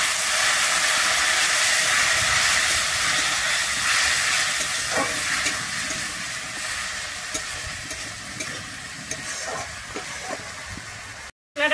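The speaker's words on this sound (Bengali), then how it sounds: "এবার আমি এটাকে একটু ভালোভাবে কষিয়ে দিই।" Bengali spice paste is stirred and fried in a pan until the oil separates, giving a loud continuous sizzle and hiss with soft scraping strokes, steady throughout before an abrupt cut at the end.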